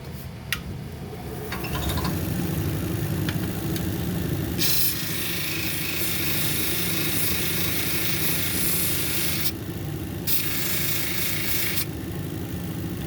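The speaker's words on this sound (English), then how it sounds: "I'll just keep going on the wheel till that's gone" A lapidary grinding wheel shapes a Mexican red lace agate cabochon, producing a continuous motor hum with a gritty rubbing hiss that cuts in and out as the stone is pressed on and lifted.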